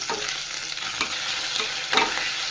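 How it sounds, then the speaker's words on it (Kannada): Ginger-garlic paste sizzles in hot oil for mutton chukka, a loud, steady frying hiss close by, broken by a few spoon scrapes and stirring knocks, with no voices. "ಒಂದು ಸ್ಪೂನ್ ಆಗೋಷ್ಟು ಶುಂಠಿ ಬೆಳ್ಳುಳ್ಳಿ ಪೇಸ್ಟ್ ಸೇರಿಸ್ತಾ ಇದ್ದೀನಿ. ಫ್ರೈ ಮಾಡ್ಕೋಬೇಕು."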